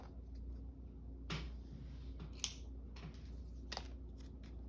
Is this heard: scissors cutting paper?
yes